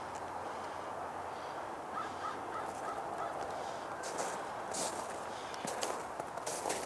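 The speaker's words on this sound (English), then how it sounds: "I think they're crows passing at the moment. Yeah, they're crows." Several crows cawing as a flock flies past outdoors, a few short harsh calls spread through the stretch over steady wind-like background noise.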